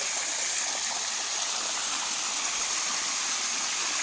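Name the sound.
irrigation water flowing through a farm field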